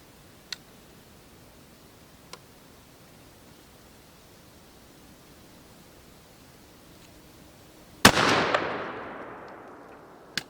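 A shotgun fires a TSS shot shell at a target on an outdoor range, one sharp loud blast that rings out and decays over a couple of seconds, following quiet background with a couple of faint clicks.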